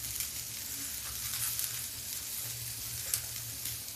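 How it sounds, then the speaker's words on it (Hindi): Chopped vegetables, including small pieces of eggplant, sizzling steadily as they hit lightly fried onions in a hot pan for watermelon sambar, a soft continuous hiss with faint crackles, no voices. "अब इस पर डाल देते हैं हम सब्जियां।"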